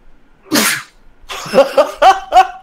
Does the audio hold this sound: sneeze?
yes